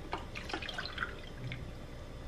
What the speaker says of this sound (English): We're gonna be using 2 cups of water.